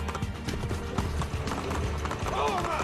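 Horse hooves clip-clopping at a gallop in Assassin's Creed 2, mixed with game voices and shouting guards at close range, a busy dense scene throughout.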